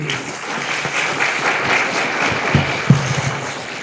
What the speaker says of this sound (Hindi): ये ताली बजाओ इनके लिए